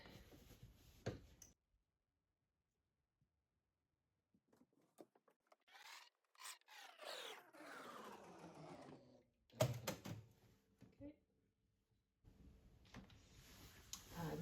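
A sewing machine stitches a seam with about a 1.5 cm seam allowance through fabric and lining, heard up close in short rapid bursts separated by quiet pauses.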